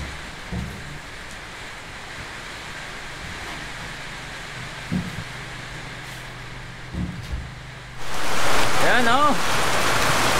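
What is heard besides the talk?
heavy rain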